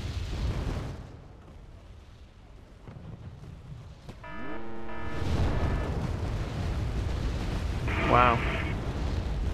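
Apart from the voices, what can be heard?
artillery fire and explosions in the video game Wargame AirLand Battle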